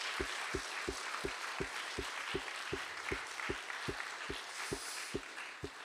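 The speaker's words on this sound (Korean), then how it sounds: "격려의 박수와 함께 우리 하나님께 영광의 박수 한번 올려드리겠습니다" A Korean church congregation in Bellevue applauds its choir at Sunday worship, a soft bed of crowd clapping underpinned by firm, steady rhythmic claps beating in unison.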